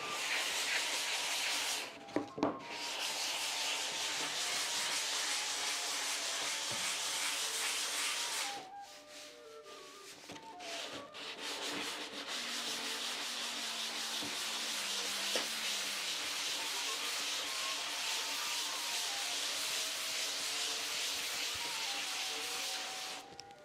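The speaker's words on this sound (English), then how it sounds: "Okay, now some sanding." Hand sanding on a wooden door under restoration, a steady, close, hissing rub that runs almost continuously with a few brief pauses and some faint tonal ringing in the background.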